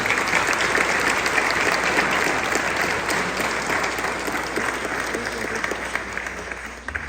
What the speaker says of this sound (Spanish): Aplauso a nuestro santo patrón.